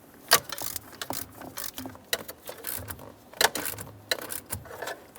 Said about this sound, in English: snug up your 7mm headed bolt on the driver's side